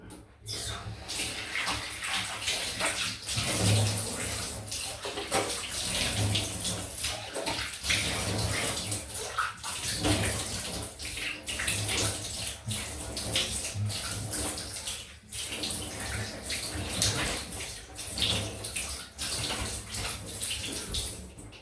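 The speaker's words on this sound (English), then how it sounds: "I'm gonna go down for the cold rinse now. I do apologise for the splash in advance, but that's water." Water splashes and runs steadily from a tap as a face gets a cold rinse after a safety-razor shave, a close and continuous wash with scattered louder splashes.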